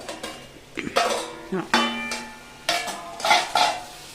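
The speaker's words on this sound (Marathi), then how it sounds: "आपण झाकण काढून बघूया, थोडंसं वांग शिजलं असेल आपलं" The lid comes off a pan of eggplant sabji with several metallic clanks and knocks of lid and utensils against cookware, close and fairly distinct.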